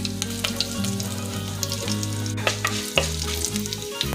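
Broken dried red chillies fry in hot coconut oil already crackling with mustard seeds and fenugreek, giving a loud, continuous sizzle with scattered pops and stirring, close up and without talk.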